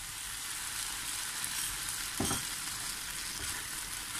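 Bitter gourd with chicken and sauce stir-fries in a pan, a steady close sizzle with a brief louder scrape of stirring midway and no talk.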